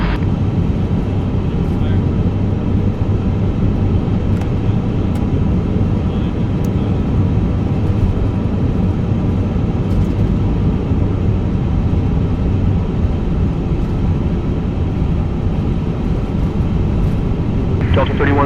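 An Airbus A350 airliner on its takeoff roll from runway 8 right, a loud steady broadband engine roar held throughout without letup.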